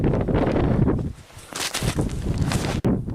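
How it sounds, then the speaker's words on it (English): Wind gusts buffet the microphone at a hunting camp on a South Dakota antelope hunt, a loud, uneven rumble that dips briefly in the middle and then surges again. "I don't know if you guys can see or hear with the wind"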